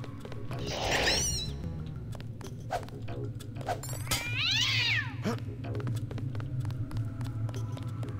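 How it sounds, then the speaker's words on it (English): A cat in the Deus Ex video game lets out two loud, drawn-out meows, the first near the start and a longer one midway, over a steady low electronic hum. "Is the cat chasing the rat?"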